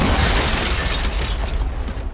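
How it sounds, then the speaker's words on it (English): A huge explosion from a scene in the action film The Gray Man, a sustained roaring, crackling blast that fills the whole stretch and fades slightly at the end, loud and close. "a team of CIA analysts annihilated by a teeth-melting explosion"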